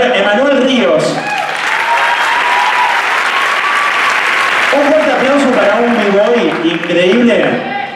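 Loud, sustained audience applause fills a dance show with voices and cheering from the crowd mixed in throughout, swelling again near the end.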